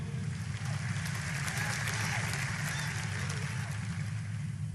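A church congregation claps and applauds during a sermon, a dense, steady wash of hand claps from a large crowd throughout.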